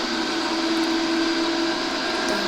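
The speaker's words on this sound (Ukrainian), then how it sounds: "У нас тут вентилятор крутиться, там ще один." Steady whirring fan spinning inside a Škoda 14Tr trolleybus in the video game Proton Bus Simulator Urbano, a continuous loud hum with a constant tone and no breaks, heard alone.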